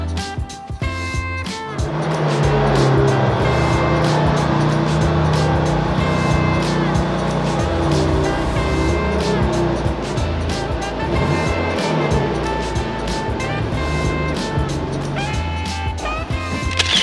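A BMW M2 Competition fitted with new camber plates and suspension parts on a road test, its engine droning loudly and steadily from the cabin with harmonic tones, punctuated by sharp clicks and bumps.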